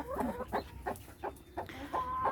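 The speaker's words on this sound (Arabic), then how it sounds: "الفراخ الهندي" Backyard turkeys cluck in a poultry pen: a run of short, close clucks in an irregular rhythm, with no talking.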